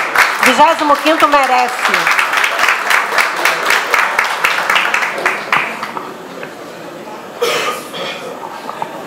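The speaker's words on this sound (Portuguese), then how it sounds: "Uma salva de palmas, gente" Clapping from an audience at a business breakfast opening greets the 25th Battalion and its colonel, sharp claps rising under a speaking voice and then thinning out as the voice continues.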